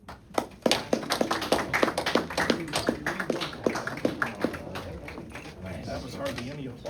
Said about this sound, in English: That was hardly any applause.